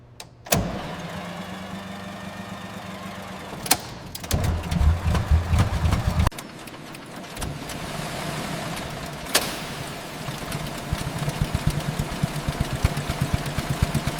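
A vintage Renault Type A engine cranks and fires for its first start in decades, then settles into a steady, close idle with a few sharp knocks and pops along the way.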